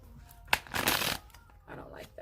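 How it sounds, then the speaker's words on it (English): A few quick riffles and snaps of tarot cards being shuffled by hand, close and fairly soft, with short pauses between bursts. "I'm going to shuffle it 3 more times."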